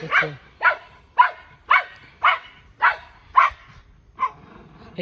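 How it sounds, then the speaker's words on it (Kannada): A dog barks eight times in a steady, evenly spaced rhythm, each bark sharp and close, with quiet gaps between. "ನಮ್ಮ ನಾಯಿ ಒದರ್ಲತ್ತದ ಪಾಪ ತಿನ್ನಕ್ಕೆ ಬಿಡೋದು"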